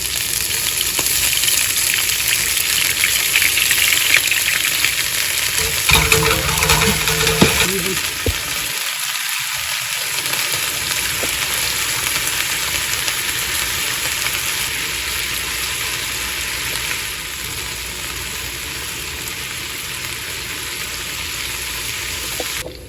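Asparagus fries in olive oil with balsamic vinegar, giving a continuous, moderately loud pan sizzle throughout, with a brief burst of clattering near the start and a short hush of quieter hiss midway.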